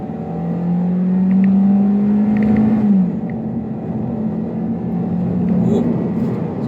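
A 2019 Hyundai Elantra 2.0 engine revs up, its pitch rising for a few seconds before settling into a steady drone as the car keeps moving.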